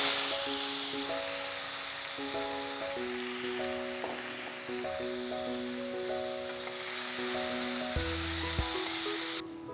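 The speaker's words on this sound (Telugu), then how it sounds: "చిన్నవిగా తరిగి పెట్టుకున్న టమాటాలు వేసేద్దాం." Chopped tomatoes hit half a spoon of hot oil in a pan and sizzle in a loud, steady hiss, with music playing underneath.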